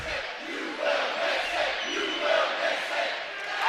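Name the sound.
Utah State Aggie basketball crowd chanting during free throw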